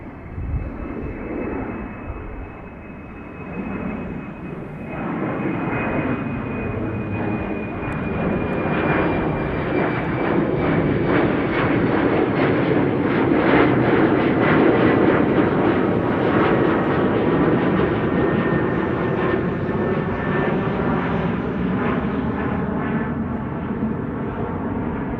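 Embraer jet climbing out after departure from Amsterdam Schiphol, its engine roar swelling and then holding steady as it passes overhead, loud and continuous with no voices.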